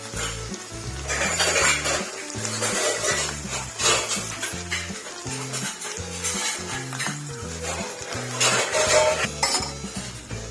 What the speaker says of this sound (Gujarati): જેટલા છોલેલા એ બધા જ બટાકા આવી રીતના હાથથી મોસરી રહ્યા છે અને મિક્સ કરી દઈશું હવે અમે.